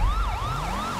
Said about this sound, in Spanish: Vamos a apagar las sirenas.